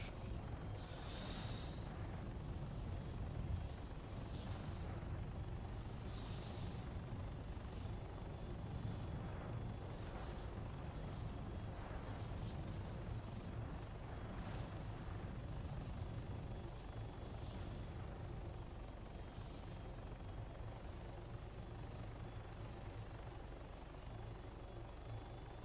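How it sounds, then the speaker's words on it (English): Continuous whirring rotor drone of a Hummingbird helicopter in the video game Arma 3, steady and fairly loud, with a few faint high beeps over the top. "Helicopter."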